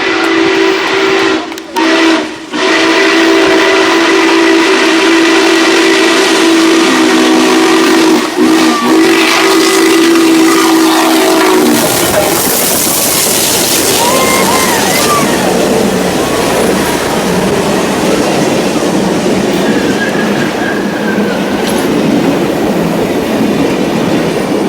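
The N&W 611 steam locomotive blows a loud, sustained whistle, then thunders past at close range with heavy rumbling, hissing steam and clattering cars, the roar continuing to the end; no talk.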